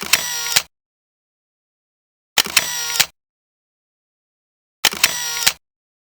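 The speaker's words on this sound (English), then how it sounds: "So, want a few pictures, Andrew, of the Major Oak?" A camera fires its shutter three times beside the Major Oak in Sherwood Forest on a rainy day. Each short burst is crisp and close, with about two seconds of silence between shots and no other sound.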